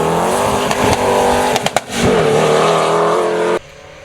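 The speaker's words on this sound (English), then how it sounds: "Peter McKinley in that famous Hillclimb Escort" A Ford Escort hillclimb race car at a hillclimb event accelerates hard, its engine note loud and close, rising steadily through the revs with a brief gearchange blip, before cutting off abruptly near the end.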